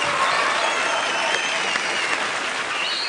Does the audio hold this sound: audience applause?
yes